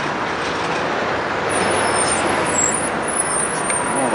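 A large Kenworth truck rumbles past with a steady broad roar of engine and road noise, fairly close and loud.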